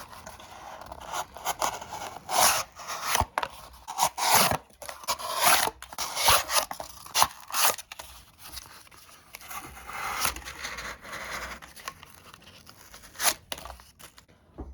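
A Condor Pack Golok blade slicing through cardboard, giving repeated close, rasping and tearing strokes in irregular bursts, scratchy and dry, with no talking.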